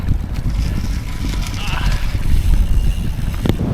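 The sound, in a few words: wind while riding a road bike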